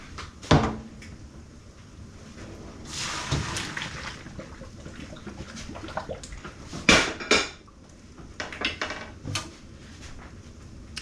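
Pasta and a pot are handled and drained in a home kitchen while carbonara is being made. Sharp knocks and clatters stand out against a steady watery wash, with a longer rush of pouring water partway through.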